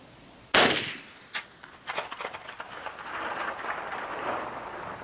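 A Marlin 1894 lever-action rifle with a 28-inch barrel fires one sharp, loud shot outdoors, and a long rumbling echo rolls away behind it and fades over the next few seconds.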